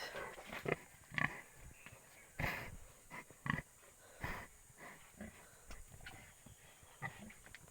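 A heavily pregnant sow grunts and snorts in short, irregular bursts against a quiet background, close by, with occasional louder snuffles.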